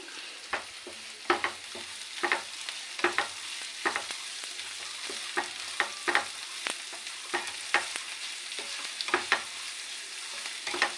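Thick-cut onions fry in oil over a raised gas flame, producing a soft continuous sizzle punctuated by regular sharp spatula scrapes and taps against the pan, close and unaccompanied by talk.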